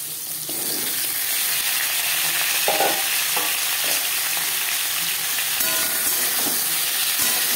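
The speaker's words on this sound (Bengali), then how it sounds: "দিয়ে দেবো চিচিঙ্গা" Snake gourd hits hot oil already frying cumin seeds and dried chilli, giving a steady, dense sizzle and hiss with occasional stirring scrapes, close and continuous throughout.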